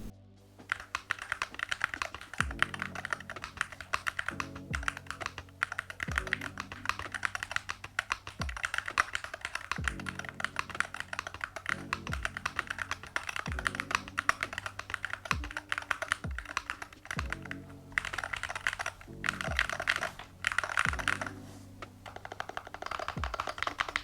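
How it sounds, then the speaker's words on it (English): Rapid, even clacking of typing on a Womier SK75 TMR hybrid mechanical keyboard with magnetic switches, close and crisp, with short pauses between bursts and no speech. "Now overall I find the sound of these switches quite acceptable"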